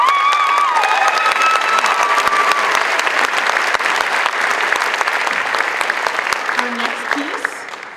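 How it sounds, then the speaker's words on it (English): Concert audience applauds two trumpet players after a holiday fanfare with antiphonal trumpets, a dense, steady wash of many hands clapping throughout, loud and close, with a few brief instrument notes at the start and end. "Can we offer a round of applause for Ella Spiro and Hannah Finney for doing this?"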